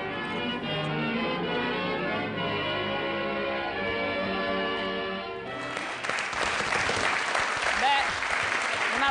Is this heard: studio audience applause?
yes